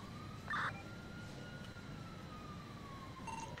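A police siren in the video game Grand Theft Auto wails faintly in the background, a steady rising and falling tone under low ambient noise, with one brief electronic chirp.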